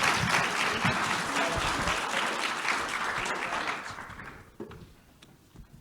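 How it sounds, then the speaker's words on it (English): An audience at a live panel event claps in a full round of applause that fades out over a few seconds, with faint voices under the clapping. "Let's give this panel a round of applause."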